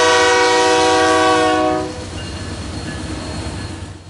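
CP 602, a freight train led by an AC44CW and an SD70ACU locomotive, sounds a loud, close horn blast that cuts off abruptly, followed by rumbling wheels and rail noise as the train passes.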